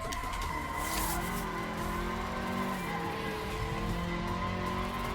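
Simulated car in the racing game Assetto Corsa, a 122-horsepower car in an Initial D–style mod, driving with a steady engine drone and repeated tire squeals and skids, with no talk over it.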